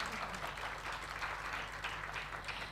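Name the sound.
applause for the speaker and moderator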